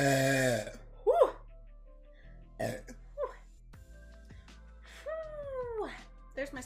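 Burps in a burping competition, several bursts spread across the stretch, loud and close, with throaty, voice-like tones and gaps of quiet between them.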